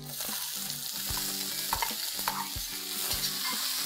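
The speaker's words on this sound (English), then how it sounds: "And now I'm going to add 4 medium-sized onions that I have finely chopped." Four medium onions, finely chopped, sizzle in a pan with ginger and garlic for an Indian chicken dish, a steady frying hiss throughout with repeated scrapes and knocks of a stirring spoon, close and alone.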